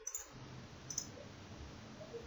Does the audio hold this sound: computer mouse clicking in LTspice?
yes